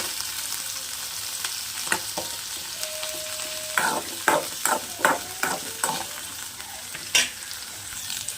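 Onions and garlic sauté in a pan for garlic chutney, a soft continuous sizzle with a cluster of sharp scraping stirs in the middle and one more near the end, close and moderate in volume, no voices.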